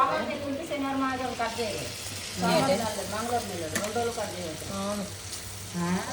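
Small pieces of fish roe frying in a pan Bengal style, a moderate sizzle with stirring running under a person talking throughout, the voice louder than the frying.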